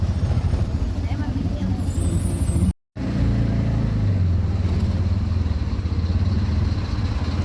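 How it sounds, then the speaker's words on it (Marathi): Road traffic on the way into Karad: a steady, loud rumble of cars, trucks and motorbikes passing close by, with a hissing air-brake-like burst and a brief dropout near the middle. "बघा ट्रॉफिक एवढं आहे ना"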